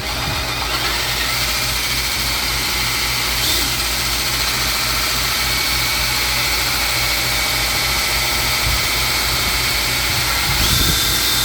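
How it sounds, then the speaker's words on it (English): A drill fitted with a hole saw bores slowly and gently into a trawler's fuel tank, a steady, close motor drone with a low hum running unbroken throughout. "you go in maybe a couple millimeters with your drill or your hole saw"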